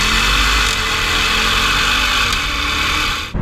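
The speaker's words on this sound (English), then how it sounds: "just put it to the floor, and that V8 just screams" Jaguar XFR-S with a V8 engine under full throttle, giving a loud, sustained engine roar heard from inside that holds steady before cutting off abruptly at the end.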